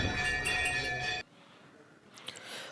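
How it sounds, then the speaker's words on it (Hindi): Temple bells at Dunagiri temple ring with a bright, sustained metallic tone that cuts off abruptly after about a second, followed by quieter ambience and a few faint clinks. "1005-6 घंटियाँ हैं।"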